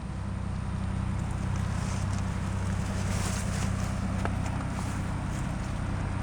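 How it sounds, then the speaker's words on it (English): Two Ford tractors idle in the background, a steady low engine drone running throughout with outdoor wind noise over it, no talk. "You can hear my two Fords running in the background"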